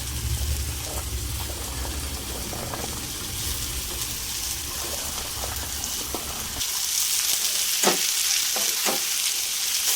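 Young green beans stir-fry in a hot pan, a continuous close sizzle with scraping stirs. The frying turns brighter and louder partway through, and a few distinct clacks come near the end.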